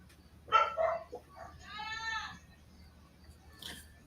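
Dogs bark in a few quick, rough bursts, then one drawn-out, tonal yelp or howl follows, with a last short cry near the end, all at moderate distance over a quiet background.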